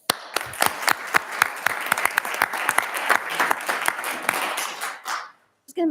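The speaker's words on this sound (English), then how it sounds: "So round of applause for them." Audience at a city council meeting gives a round of applause for 5-, 10- and 15-year service honorees: dense, steady clapping for about five seconds, then it fades out into near silence.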